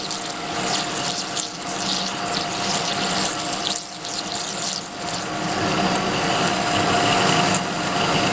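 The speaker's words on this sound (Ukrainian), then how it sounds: "Я чую, як різання стає переривчасте" A lathe whirs steadily while a cutting tool parts off a metal pipe with a harsh, intermittent hiss that breaks up in pulses, loud and close with no voices.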